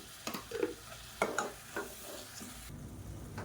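Tomatoes sizzle in hot oil in a pan for biryani while a spoon stirs them, with a few distinct scraping strokes over a steady, faint frying hiss nearby.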